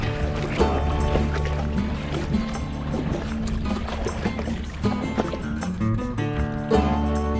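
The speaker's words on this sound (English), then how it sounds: "the wind died down, didn't it, bud? We're paddling." Kayak paddling on calm water with a dog aboard, rhythmic dips and splashes of the paddle recurring every second or so, close and fairly loud, with occasional knocks against the hull and no talk.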